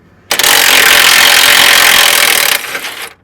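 A power tool spins out a 15 mm bolt from the front bumper of a 1999–2005 Ford Super Duty truck in one loud, close, continuous mechanical whir lasting about two seconds, then a shorter, quieter burst as it winds down.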